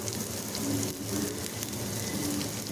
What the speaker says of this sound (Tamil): போட்டுட்டு நல்லா வதக்கி விட்டுருங்க.